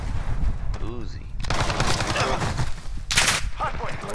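Uzi bursts rattle through a Call of Duty match, rapid machine-gun fire in short volleys mixed with other in-game gunshots and effects, while a player talks over the action.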